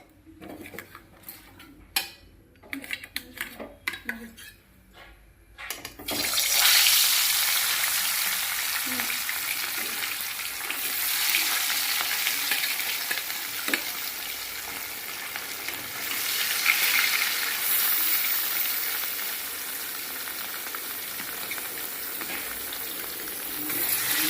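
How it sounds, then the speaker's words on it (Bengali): Fish drops into hot oil and fries with a loud, steady sizzle that continues for about twenty seconds, after some clinking of pans and utensils at the start. "এখানে তেল গরম হয়ে গেছে, এখন দিয়ে দেবো মাছ।"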